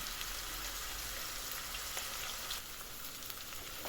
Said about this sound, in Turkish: Evet, şöyle kıymam soğanı güzelce kavruldu.